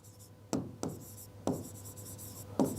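Figures written by hand on paper while working through an accounting exercise: several distinct pen strokes with short scratching bursts at an irregular pace, close and fairly quiet, with no talking.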